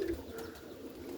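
Roller pigeons give a soft, low coo once, close by and fairly faint, against quiet background noise.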